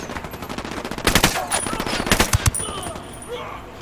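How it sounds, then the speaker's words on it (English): Rapid automatic gunfire in Ghost Recon Wildlands at a resort location, dense bursts of sharp cracking shots over a few seconds with distant echoes and a few heavier reports near the end. "Someone's shooting at me."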